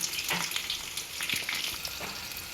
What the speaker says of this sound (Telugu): పచ్చిమిరపకాయలు వేసి వేయించుకుందాం కొద్దిగా మెంతులు కూడా వేసి వేయించుకుందాం